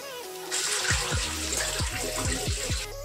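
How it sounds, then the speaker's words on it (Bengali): Water splashes and pours from a tap while dough-flour water is rinsed out of a bowl by hand, a steady close gush with several sloshing, gurgling pours through it. "আবার এরকম আবার সাদা জলটা আমি ফেলে দেবো"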